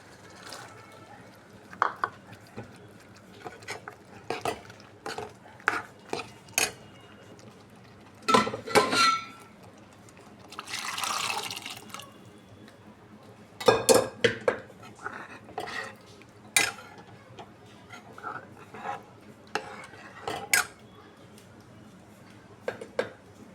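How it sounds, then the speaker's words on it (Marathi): Cowpeas are added to a pan of curry and stirred, with scattered sharp clinks of a utensil against the pan, brief wet splashes and a short pouring hiss in the middle. "आपण आता चवळी टाकू त्याच्यात।"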